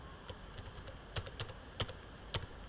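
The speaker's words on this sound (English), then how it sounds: "then I will use my arrow key from keyboard." Computer keyboard keys are tapped one at a time with irregular pauses while arrow keys nudge a resume layout in MS Word, giving soft, close, isolated clicks in a quiet room.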